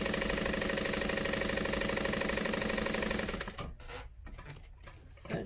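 A home sewing machine runs steadily, stitching around a boxed corner of a handmade bag at a short 2.5 stitch length, then stops after about three and a half seconds, leaving faint handling noise.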